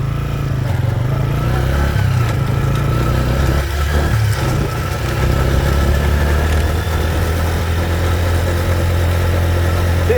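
A homemade motorcycle with a gate-chain drive runs up hard, its engine holding a loud, steady droning roar close by with a continuous vibrating rumble throughout.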